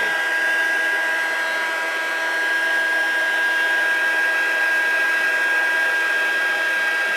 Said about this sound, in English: it is intense heat with an embossing gun. Or the proper name, heat tool